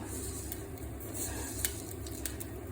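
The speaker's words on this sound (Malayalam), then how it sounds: "വെളിച്ചെണ്ണ ചൂടാക്കി നമുക്ക് കുറച്ച് കടുക് കടുക് ഇടണം" Mustard seeds sizzling in hot coconut oil in a pan for a mango pulissery curry make a faint, steady crackling hiss, with light spoon stirring and occasional small pops.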